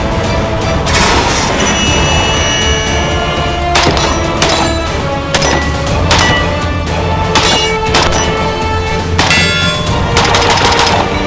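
A rifle fitted with a Cloud Defensive Rein weapon-mounted light fires rapid, loud gunshots in dense bursts, sharp cracks overlapping with ringing echo throughout and no talk.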